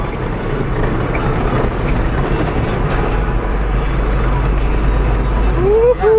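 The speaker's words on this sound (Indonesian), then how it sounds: "Nah, teriak mesin kan?" Heavy construction machinery, such as an excavator or bulldozer at an operator training site, with its diesel engine roaring steadily under throttle, loud and continuous throughout with a deep rumbling low end.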